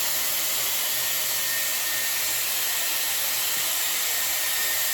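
Steady, loud airflow roars from a Dyson Airwrap on its cool shot setting, blowing cold air on styled hair in one unbroken hiss with no talking.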